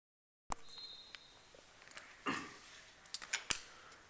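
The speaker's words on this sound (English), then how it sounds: "Make 2 stabilizers by cutting with scissors." Scissors cut paper to make two stabilizers for a paper skimmer glider, a few quiet, separate snips and clicks in a still room.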